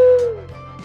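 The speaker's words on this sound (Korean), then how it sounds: "올빼미 소리." An owl hooting, taken from the Voyager Golden Record: a single clear, close hoot that slides slightly downward in pitch, followed by a softer tail.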